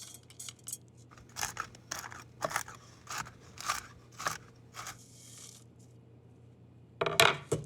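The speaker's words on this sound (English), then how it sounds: "What I'm gonna do is set aside 12 pecan halves for the top of the brownies, and the rest I'll chop up coarsely" Pecan halves chopped coarsely with a knife on a board for brownies: a steady series of crisp, crunchy cuts at an uneven rhythm, close and fairly quiet, ending with a sharper cluster of chops.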